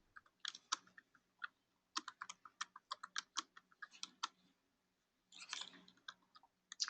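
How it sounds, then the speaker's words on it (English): Quiet, close keystrokes clatter on a computer keyboard in irregular bursts and short runs, with brief pauses and a denser flurry near the end. "I can hear you typing, Kelly."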